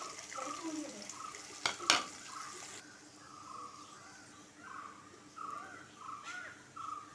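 Ginger, garlic, green chilli and curry leaves frying with popped mustard seeds in a pan for fish pickle, a soft low sizzle with a couple of sharp utensil clinks and quiet stirring scrapes, close and faint.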